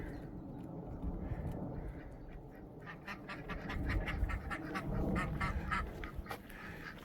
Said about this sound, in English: Hello, ducks.